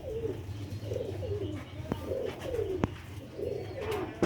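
Pure old Sialkoti black-faced pigeons cooing on a rooftop loft, repeated soft rolling coos close by, with a couple of sharp clicks and faint background noise.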